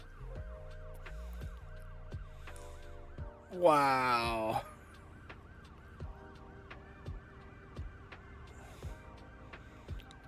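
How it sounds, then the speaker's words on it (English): Several ambulance sirens in a video game wail and overlap continuously, with steady rising-falling tones and scattered clicks, while a voice briefly exclaims loudly over them partway through. "Here comes a fleet of ambulances."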